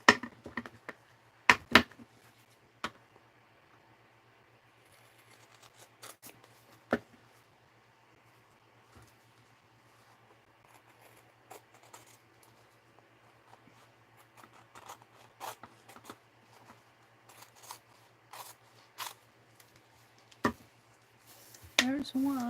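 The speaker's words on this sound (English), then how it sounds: "these scissors are not good for cutting fabric" Scissors cutting fabric at a craft table: a scattered series of sharp, close snips and clicks over a quiet room with a faint low hum, some snips louder and spaced irregularly.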